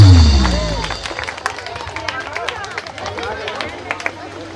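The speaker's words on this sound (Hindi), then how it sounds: "सभी लोग तालियों के साथ में उनका स्वागत करेंगे।" Audience clapping during a Sita Swayamvar religious performance, a scattered patter of handclaps across a crowd with murmuring voices, following a loud low thump at the start.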